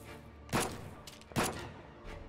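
Two sharp gunshots in a Silent Hill-style horror game, close and distinct, about a second apart, with a faint third report at the end over a low, quiet ambient background.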